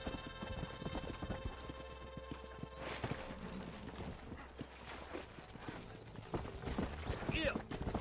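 Horse hooves gallop steadily in Red Dead Redemption on PS3, a continuous clip-clop rhythm under western game music and ambience.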